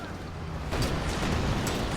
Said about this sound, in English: More incendiary artillery is available to drop, and probably should get dropped.